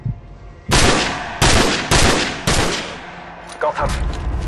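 Loud gunfire in the video game Call of Duty 4: Modern Warfare: four or five heavy, close bursts with short gaps between them, followed by a few lighter distant shots.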